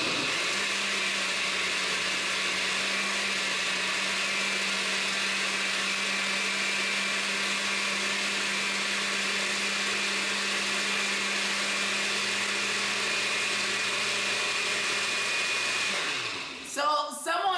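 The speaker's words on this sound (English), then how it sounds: "So since I blend it all, now I'm going to liquefy that baby" A blender runs steadily, liquefying guava into smooth juice with a loud, continuous motor whir and a low hum that holds for about sixteen seconds before spinning down and stopping near the end; no one speaks over it.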